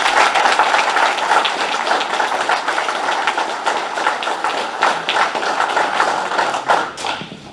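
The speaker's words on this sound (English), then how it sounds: "let's give them all a round of applause" An audience at a candidates forum applauds loudly and steadily, a dense wash of clapping that holds for several seconds and begins to taper off at the end.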